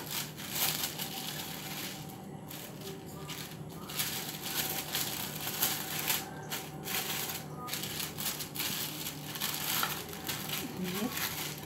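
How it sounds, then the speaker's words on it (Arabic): A plastic bag crinkles and rustles steadily while it is folded over raw hamburger patties in a home kitchen. The close crackling runs continuously under someone speaking. "ونبتدي نكعورها كده ونحطها ونبتدي نقفل عليها الكيس زي المنديل"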